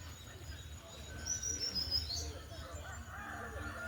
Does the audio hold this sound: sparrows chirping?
yes